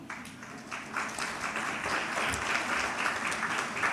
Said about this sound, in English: for next few minutes throughout the award ceremony, let's keep applauding